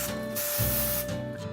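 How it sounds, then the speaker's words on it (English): Non-stick cooking spray hisses from an aerosol can onto a pan, two close bursts of steady, bright spray heard near and alone. "Now we're gonna go ahead and spray our pan with a little bit of non-stick spray."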